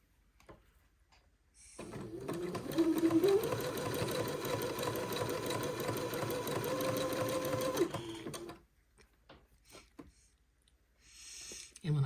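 A sewing machine stitches fabric in one steady, close run of about six seconds, whirring and rapidly chattering, with brief handling clicks before and after and no talking.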